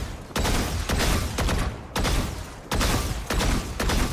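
Rapid video game gunfire on a shooting range: loud, close bursts of automatic shots, several separate volleys broken by short pauses, with no talk.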